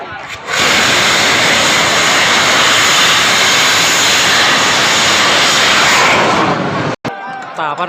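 A bang fai saen bamboo rocket launches at Ban Nam Om, Kho Wang, Yasothon, letting out a loud, sustained roar for about six seconds before it cuts off abruptly, with brief voices after.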